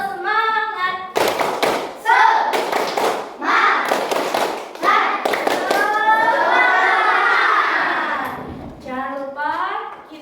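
Children chant the 'tepuk semangat' rhythm in unison, with bursts of sharp, loud group clapping between the sung and spoken phrases.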